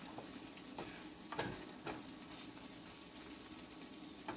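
Scrambled eggs frying in a pan while being stirred, a soft steady sizzle broken by a few scraping strokes of the utensil, quiet and close.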